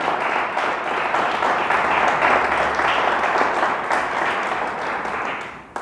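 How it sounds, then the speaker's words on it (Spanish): Church congregation giving sustained, dense applause, loud and steady for several seconds, with a faint voice or two mixed in before it tapers off. "Dele un fuerte aplauso a Dios."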